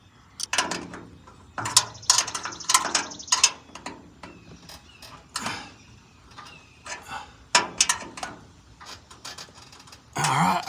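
A ratchet tightens the mirror bracket bolts on a Kubota L4701 tractor in bursts of quick, close clicking, with short pauses and metallic handling sounds between strokes.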